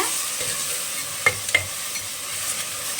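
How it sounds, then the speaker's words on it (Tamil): Ginger garlic paste being stirred into fried onions in a hot pan while cooking mutton pepper fry kuska, with a steady sizzle and two sharp utensil scrapes or knocks partway through. "நல்லா கலந்து விட்டுக்கோங்க"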